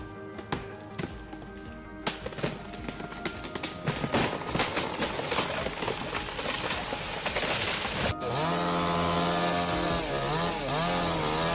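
A chainsaw cuts into a tree, the engine revving in rough bursts with woody knocks and crackles, then settling into a loud, steady high whine with rising and falling pitch toward the end, close and without talk.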